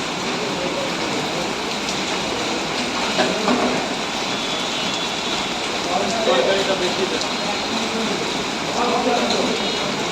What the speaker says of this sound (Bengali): এত প্রচুর পরিমাণে বৃষ্টি পড়ছে